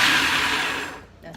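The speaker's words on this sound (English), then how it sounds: "I'm just pulsing a few times because it doesn't take a whole lot, and I like it a little chunky" A food processor pulsing chopped green tomatoes for relish, a loud whirring burst of the motor that winds down and stops within about a second.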